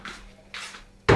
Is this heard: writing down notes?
no